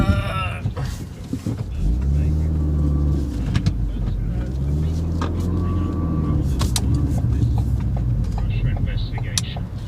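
A car drives along with steady engine and road noise throughout, engine tones rising and falling as it shifts, while a person talks over it from inside the cabin.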